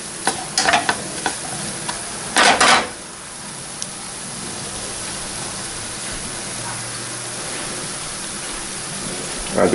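Spices sizzle in hot oil as they are stirred, a steady close hiss with a few louder scraping bursts near the start and no talk.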